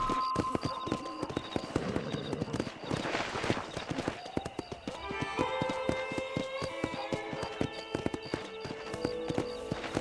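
A horse gallops in the Red Dead Redemption video game, its steady, loud hoofbeats clopping close up throughout, with a whinny and other game sounds mixed in.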